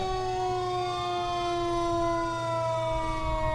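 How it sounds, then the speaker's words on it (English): A fire engine, Engine 323 from the number three fire department, sounds its wailing siren in a Christmas parade. The loud, sustained tones rise and fall steadily throughout, with no talking over it. "And this fire truck is from where, Casey?"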